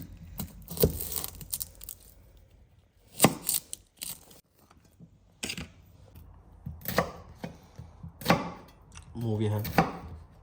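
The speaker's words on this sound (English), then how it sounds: "So that will be peeled and chopped into small pieces." Vegetables for a Shahi Paneer curry base are chopped by hand on a board, a series of sharp, close knife strikes in irregular bursts, with a brief voice near the end.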